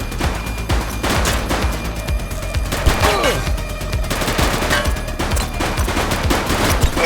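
A shootout in the police video game The Precinct: dense, sustained bursts of rapid gunfire overlap continuously, loud and close, with a few heavier booming shots mixed in.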